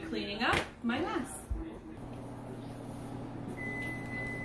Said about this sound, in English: So there's our timer